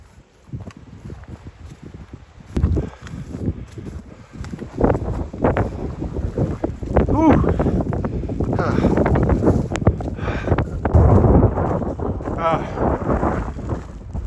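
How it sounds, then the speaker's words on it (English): Strong gusty wind in wet weather buffets the microphone outdoors on the Port Davey Track in the Tasmanian wilderness, with loud rumbling bursts and rustling throughout. "the weather is terrible. Super windy and wet"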